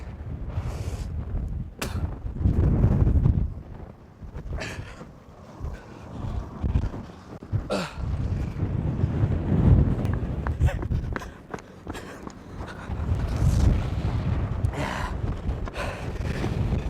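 Violent storm wind of about 50 metres per second at freezing temperatures near Ingólfsfjall, Iceland, roaring and buffeting the microphone in loud gusts with brief breathy sounds close by.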